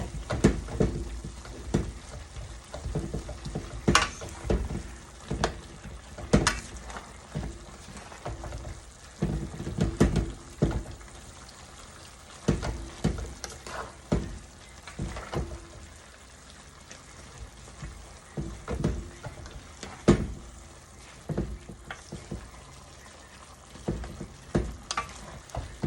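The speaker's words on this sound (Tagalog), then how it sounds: "So, pwede na natin siyang halu-haluin na ganito." Pancit bihon rice noodles are stirred and tossed in a sizzling pan, with repeated scraping and clattering strokes over a steady frying hiss for nearly half a minute.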